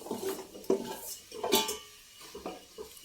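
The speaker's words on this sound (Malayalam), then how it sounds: "ഇനി നമുക്കിത് ചെറിയ ചൂടിൽ നന്നായിട്ടൊന്ന് ഇളക്കി കൊടുക്കട്ടോ." A utensil scrapes and clinks against a pan while turmeric and bilimbi pickle is stirred over low heat, giving a few irregular metallic taps and scrapes close by, with no talk.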